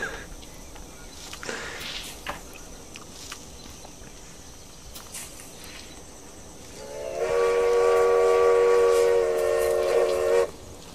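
Steam train whistle in the Railway Empire video game, a loud sustained blast of about three seconds after quieter rail ambience with brief clanks.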